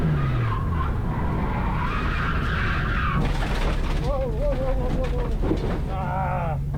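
A BMW E36 rallycross car skids and slides into a wall and tire barrier, with a loud rising engine whine, tire scrubbing and a burst of impact noise followed by further engine revving.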